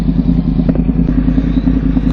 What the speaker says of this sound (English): Always got to rev when you're on a overpass or under an overpass.